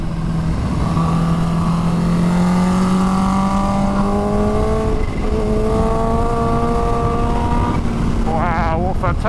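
Triumph 765 Daytona Moto2 motorcycle ridden hard through road bends, its engine note climbing steadily through the gears in a loud, close onboard drone with wind rush, ending in a quick rev change.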